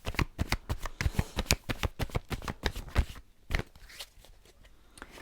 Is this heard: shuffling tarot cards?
yes